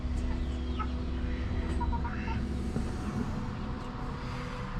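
Chickens clucking outdoors in the sun, a few short cackling calls scattered through a steady background of outdoor noise, moderately distant.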